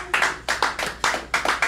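Sparse, half-hearted clapping from a comedy club audience at a live show, a few scattered hands tapping out a thin, uneven patter of short bursts, close and fairly loud with no talking.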